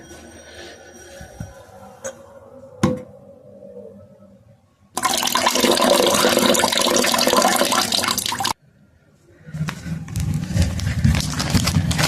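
Water from freshly boiled corn is poured off in a kitchen, starting with quiet handling sounds, then a loud steady rush of liquid for several seconds, a short pause, and a second splashing pour.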